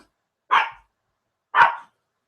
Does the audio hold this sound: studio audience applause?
no